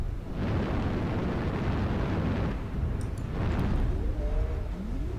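Artillery strike explosions in the game MechWarrior Online, two heavy rumbling booms rolling out one after another amid battle noise, loud and close with no speech.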